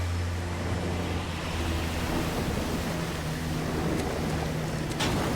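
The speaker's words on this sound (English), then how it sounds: "So is there anything interesting with the waterfall?" A waterfall in the video game Darksiders pours as a steady, loud, broadband roar that fills the whole stretch without a break.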